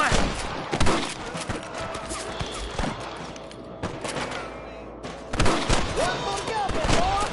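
Shots fired at cattle rustlers in a Western cowboy video game crack out in rapid, irregular volleys, loud and close, with a short lull before another heavy burst of gunfire, while voices call out over the shooting.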